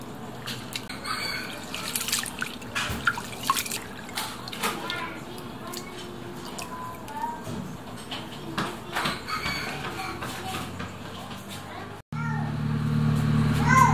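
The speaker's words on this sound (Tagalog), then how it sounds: "Ngayon maglalagay na tayo ng tubig para banlawan." A mix of glutinous and jasmine rice is rinsed with water in a kitchen, giving continuous watery sloshing and dripping with scattered small clicks, followed near the end by a steadier, louder rush of water.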